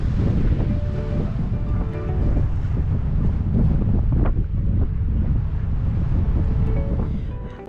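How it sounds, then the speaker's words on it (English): Strong wind buffets the microphone at a boat anchorage near Hamilton Cove, a loud continuous roar with gusty swells and water sloshing underneath, no talking. "Weren't really comfortable with the winds that were going in"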